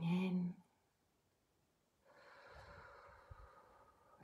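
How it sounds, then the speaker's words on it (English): A person breathing in deeply during a relaxation exercise: a short loud nasal snort-like breath at the start, a pause, then a long soft drawn-in breath with faint hissing and small bumps, close and quiet. "Breathing in"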